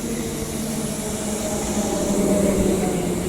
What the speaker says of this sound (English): High Wycombe train is also arriving on platform number 2, right out of the tunnel.